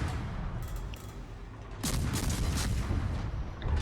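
Warship guns fire in World of Warships in a short naval battle, heavy booms layered over a steady background rumble, with a louder burst of blasts arriving midway and continuing to the end.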